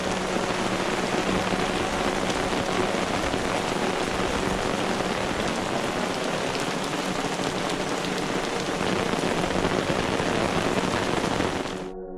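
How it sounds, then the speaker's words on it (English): Steady, dense rain patters loudly and continuously on surfaces at a mountain campsite, an unbroken wash of drops with no voices, cutting off abruptly at the end. "So the rain is starting to subside."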